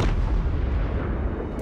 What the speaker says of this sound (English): Rocket battery!